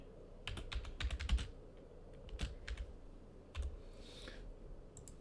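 Computer keyboard typing in short bursts of close, crisp key clicks with pauses between, fairly quiet, no talking.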